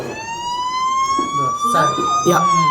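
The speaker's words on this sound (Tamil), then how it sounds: "உங்கள் ஃபோனில் அலாரம் அடிக்க ஆரம்பிச்சிடும்" A loud electronic alarm wails with a steady rising pitch, accompanied by a few short clunks and bursts of talking underneath.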